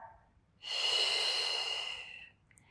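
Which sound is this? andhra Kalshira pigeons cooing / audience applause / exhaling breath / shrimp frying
exhaling breath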